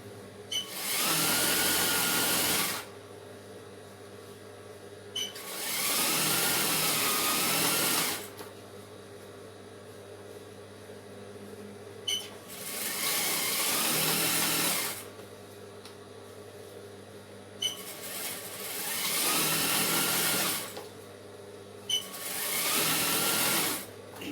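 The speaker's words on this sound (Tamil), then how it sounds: "இப்போ திரும்ப அது மேலே ஒரு இன்னொரு தையல்." A sewing machine runs in four separate bursts, stitching a second line of stitches over the joined seam of a Patiala pant. Each burst is loud and close, with a steady hum between runs and no speech.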